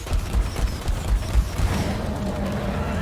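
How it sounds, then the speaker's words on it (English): Rumbling booms and crackling blasts from explosions in the mining shooter Deep Rock Galactic, a dense run of low thuds in the first half settling into a steady roar of gunfire and debris. "More explosions."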